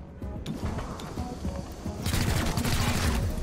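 Rapid gunfire from a squad firefight in XCOM: Chimera Squad, a dense burst of shots swelling louder toward the end, moderately close beneath other game sounds.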